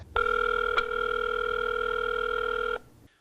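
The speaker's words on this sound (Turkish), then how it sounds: "Şimdi o telefon numarasını arayacağız." A telephone call tone sounds as one steady, clear electronic beep lasting a few seconds at fairly close, even volume, with a brief click partway through, before it stops.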